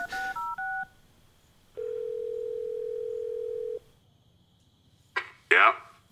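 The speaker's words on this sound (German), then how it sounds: "Mal anrufen." A telephone number dialed as a quick run of DTMF beeps, then a long steady tone, with a short rustle near the end.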